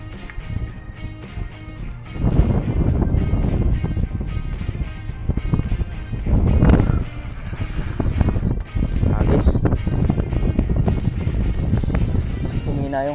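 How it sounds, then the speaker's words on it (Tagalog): Steady wind rushes across a microphone on a Philippine shoreline during shore casting, a loud continuous roar with gusts swelling and easing throughout. "Yung hangin ngayon."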